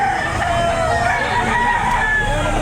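A rooster crows loudly and close at an outdoor chicken market behind SM City Lipa in Batangas, one long drawn-out call with clucking fowl around it and people talking nearby.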